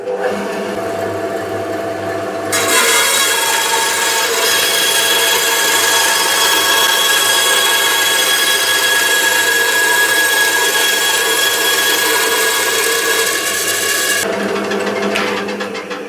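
A bandsaw with its fence set cuts through a piece of MDF for a homemade 12-inch disc sander, giving a steady, loud, continuous whine and rasp for about twelve seconds that stops abruptly, with no talking.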